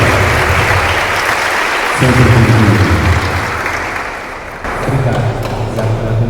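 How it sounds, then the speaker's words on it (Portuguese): A church congregation applauds a priest at a Marian congress in a parish, a dense sustained clapping crowd that swells and dips, with someone speaking briefly over it. "Uma salva de palmas para o nosso Padre"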